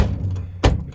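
A Hotpoint Aquarius WMA37 washing machine being whacked to get it going: one short, close, dull thud over a low steady hum.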